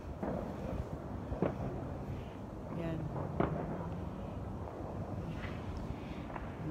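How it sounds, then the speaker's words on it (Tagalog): New Year's Eve firecrackers bursting around a rooftop near the sea, scattered sharp pops and bangs at varying distances over a constant wind-buffeted rumble, with a voice talking in places. "kabilaan ng mga paputok"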